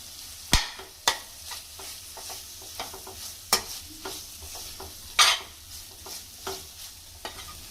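Egg curry masala is stirred and fried in a pan, with repeated sharp scrapes and taps of a spoon over a steady low sizzle, close and fairly quiet, with no one talking.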